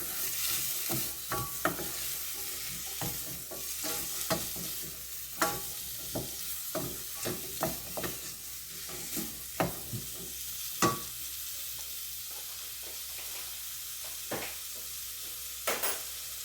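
Curry spices frying in a pan as they are mixed, an even sizzle beneath sharp, irregular clicks and scrapes of a spoon against the pan, close up and without speech.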